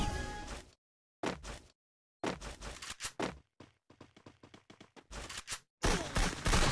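Gunfire from the mobile battle-royale game Free Fire: loud, close bursts separated by short silences, then a fast rattling run of rapid shots before more heavy bursts at the end.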